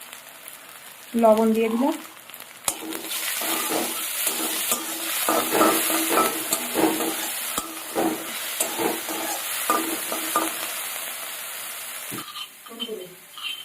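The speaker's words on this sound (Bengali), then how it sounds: "ঠান্ডা তেল গরম বসিয়ে দিয়েছি, এবার পেঁয়াজগুলো দিয়ে দেবো।" Onions frying in hot oil in a home kitchen, a steady loud sizzle running throughout with stirring and utensil clatter, while someone speaks over it.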